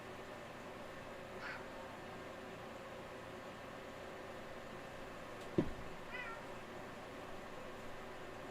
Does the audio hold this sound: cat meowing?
yes